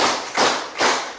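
Students in a high school classroom clap together in a rhythm pattern, three evenly spaced group claps, close and moderately loud with no talking.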